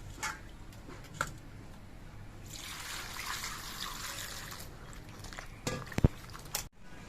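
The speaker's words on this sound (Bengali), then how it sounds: "এবার কেটে নেওয়া সবজিগুলোকে আমি ধুয়ে পরিষ্কার করে নিচ্ছি।" Cut vegetables washed with water: a soft trickle, a stretch of steady running water, and handling knocks and clatter of the vessel near the end, all close and with no speech.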